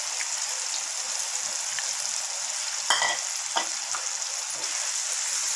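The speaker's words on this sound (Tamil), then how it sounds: "இது கூட இப்போ நம்ம இந்த அலச்சி வச்ச ட்ரையான எறாவை சேர்த்து ஒரு 5 நிமிஷம் விட்டுடலாம்" Dried prawns with raw mango in a mango-prawn gravy make a steady frying hiss in the pan, with a couple of brief stirring clicks, close and with no talking.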